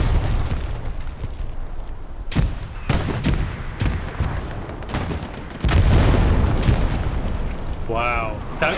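Tank destroyed in a World War II-style multiplayer video game: a rapid series of explosions and gunfire bursts, ending in a heavy, loud blast, with a voice talking over the battle noise.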